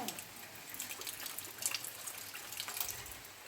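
Rainwater drips and trickles off the edge of a roof during a rainy morning, a faint, uneven pattering of drops and splashes heard close by with no talking.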